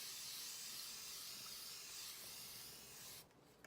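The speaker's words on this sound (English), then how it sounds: "this is my facial mist." A facial mist sprayed in a long continuous hissing burst close by, lasting about three seconds before cutting off abruptly into near silence.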